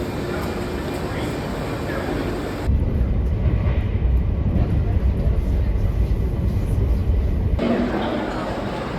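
Steady rumble and broadband wind-like roar of a train travelling from Florence to Rome, louder and heavier through the middle stretch, continuous throughout with a faint voice briefly in the background.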